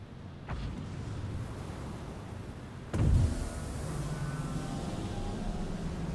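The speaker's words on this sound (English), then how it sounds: "Put the landing gear down." Ship landing gear lowering in the space game Star Citizen during a Roc mining outing: a sharp mechanical clunk with a low thud around the midpoint, followed by a steady hum over continuous engine drone, no voices.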